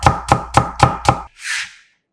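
A knife julienning a peeled carrot into thin strips strikes the cutting board five times in an even, quick rhythm, close and crisp, followed by a soft brushing sweep.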